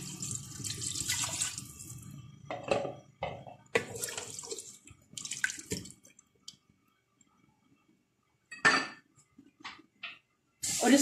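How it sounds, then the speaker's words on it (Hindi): Water pours in several bursts into a pot of beef for onion gosht curry, splashing and running, with pauses of quiet between pours and a final short splash. "अब इसके अंदर मैं 2 से 3 ग्लास पानी डाल दूंगी ताकि गोश्त अच्छी तरह से गल जाए।"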